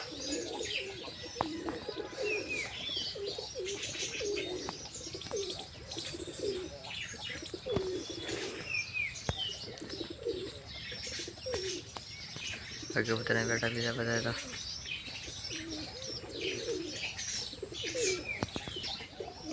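Pigeons, including black pigeons, coo repeatedly in a low murmuring rhythm alongside chirps and brief wing flaps, close by while a person talks over them.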